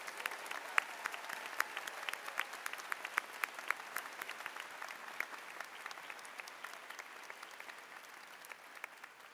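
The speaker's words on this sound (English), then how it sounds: "Let's give them all a round of applause." An audience applauds the graduating medical class of 2027 at a white coat ceremony, dense crackling clapping from a large crowd heard from a distance, steady and fairly faint throughout.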